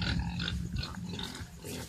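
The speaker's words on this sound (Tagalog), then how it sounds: "magpapakain na po tayo kay Laki kasi po si tatay ay nagagalit siya pag hindi hindi po napakain yung baboy" A pig at feeding time grunts and snuffles up close, with wet chomping and rustling noises filling the short stretch of sound.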